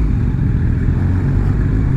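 Several motorcycles roll into a calm campsite in the Gorges du Verdon, their engines giving a steady, loud low rumble that holds throughout with no voices over it.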